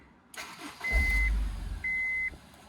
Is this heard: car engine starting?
yes